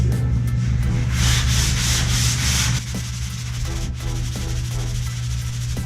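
Hand sanding of drywall joint compound during a house remodel, a steady close scratchy rubbing with rhythmic back-and-forth strokes that ease to a softer pass midway.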